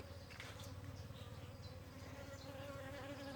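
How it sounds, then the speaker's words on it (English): Bees work flowers on a coffee plant, gathering nectar, a steady, faint droning buzz of several insects close by that holds without break under quiet outdoor background. "Bees are actively collecting"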